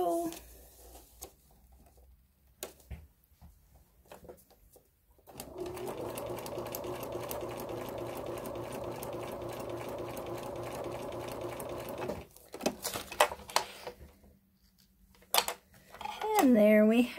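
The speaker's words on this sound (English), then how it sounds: "We're ready to sew again on the line." A sewing machine runs steadily for about seven seconds, stitching a Halloween cat quilt along a pinned line, with quieter handling noises before and after and a brief voice near the end.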